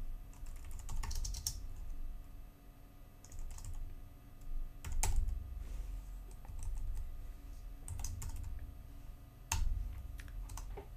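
Steady typing on a computer keyboard, quiet and close, with irregular bursts of keystrokes and brief pauses, no voices.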